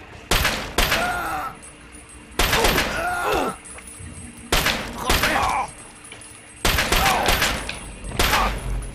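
Four bursts of rapid pistol fire from a Chinese pistol in Fallout 3, each volley a cluster of sharp cracks with ringing tails, spaced about two seconds apart, loud and close.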